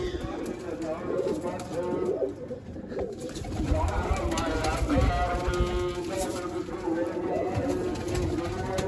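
Pigeons coo in low, throaty bursts close by, mingling with people talking and general yard noise throughout.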